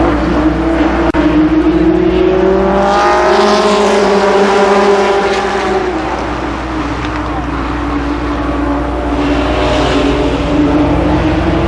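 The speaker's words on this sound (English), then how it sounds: "Again, 8 laps for your limited sportsman second heat race." Limited sportsman race cars running a heat at Columbus Motor Speedway, a loud sustained roar of several engines with rising and falling pitch as the pack circles, with a voice briefly over it.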